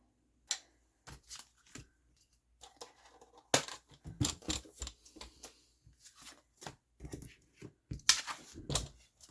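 Cream-colored paper is cut with scissors in a quiet craft setting, a series of irregular crisp snips and slices with short pauses between them, close and fairly soft.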